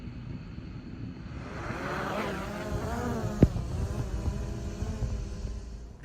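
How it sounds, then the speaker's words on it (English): An Autel EVO Lite 640T drone flies at night, its propellers giving a steady, buzzing, insect-like whine with a shifting pitch that carries on throughout, with one sharp click partway through. "So here we are running this drone the other night."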